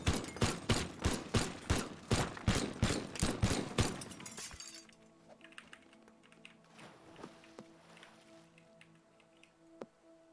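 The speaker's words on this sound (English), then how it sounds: "Here, let me use the gun." Gunfire in the destructible-voxel video game Teardown: a rapid, evenly spaced burst of about a dozen loud shots, followed by quieter scattered clatter and debris sounds.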